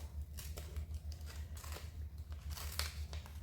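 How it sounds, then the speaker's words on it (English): Paper being torn by hand around a cut-out picture of a lady for a pink one-colour collage, a run of short rough rips and crinkles close by, over a steady low hum. "So then I'll just tear out round this lady"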